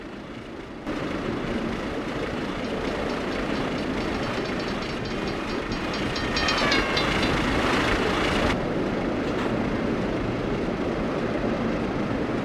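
Steam locomotive in the Trainz simulator running steadily, a broad continuous rumbling roar with a faint rhythmic clatter, a louder hissing stretch near the middle, and no talking.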